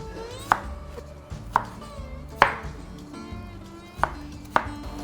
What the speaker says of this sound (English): Then we chop up a tiny little piece of the cucumber.